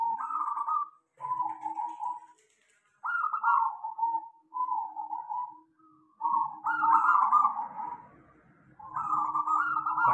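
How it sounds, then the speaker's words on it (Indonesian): A small local zebra dove (perkutut) repeats its soft, cooing calls in short phrases separated by brief pauses, close and clear, the last bursts fuller and more insistent. "perkutut kecil ini dinamakan jenis perkutut lokal suara ngiklik alias ngundang"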